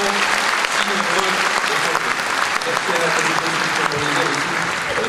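Sustained, dense applause from a large audience at a political gathering supporting Christians, steady and unbroken throughout with faint voices underneath.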